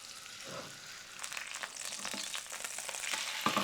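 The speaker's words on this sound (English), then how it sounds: "Gonna be using canola, kind of shallow frying it." Pork pancake batter shallow-frying in canola oil in a hot pan gives a steady, close crackling sizzle with brief sharper pops, running alone without talk.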